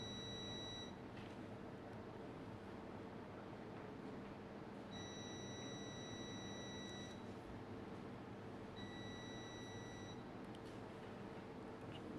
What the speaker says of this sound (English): So the beep actually tells us that the electrode is properly connected.